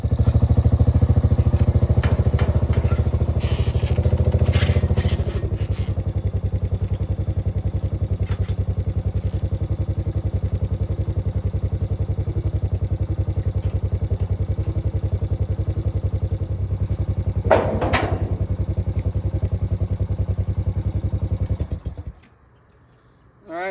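A four-wheeler engine idles in a firewood woodyard with a steady, close, loud drone and some light clatter, running evenly for about twenty-two seconds before cutting off abruptly.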